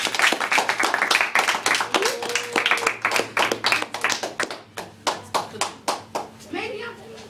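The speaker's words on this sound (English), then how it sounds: "Audience, clap for him." Audience clapping on a kids' talk show: a busy burst of claps that thins into a few distinct, rhythmic hand claps, with children's voices and chatter mixed in.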